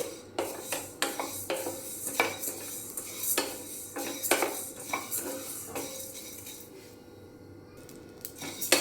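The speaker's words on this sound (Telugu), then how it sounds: "ధనియాల్ని బాగా కదుపుకుంటూ వేయించుకోవాలి." Coriander seeds dry-roast in a pan while a spoon stirs them, producing repeated metallic scrapes and rattling clinks of seeds against metal, fading to quiet near the end.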